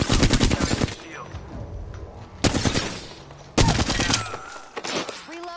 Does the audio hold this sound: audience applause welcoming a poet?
no